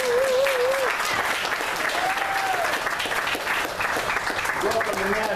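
Audience at a National Black Wall Street business luncheon in Chicago gives sustained, dense applause filling the room, with voices and whoops mixed in among the clapping.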